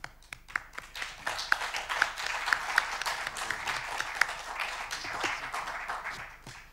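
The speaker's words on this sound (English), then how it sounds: "give him an applause." A lecture audience breaks into steady applause at the end of a talk on time and the universe, many hands clapping close and dense throughout, with a few sharper individual claps standing out.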